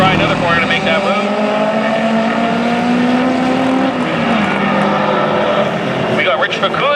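Closed-wheel race cars at Mission Raceway come out of turn 1 toward the grandstands, their engines a loud, sustained drone with shifting pitch, while an announcer talks over the noise.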